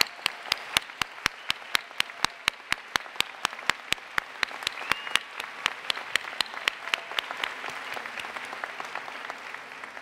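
At a college commencement ceremony, one nearby pair of hands claps sharply and steadily, about three claps a second, over a softer, sustained wash of crowd applause that gradually tapers off.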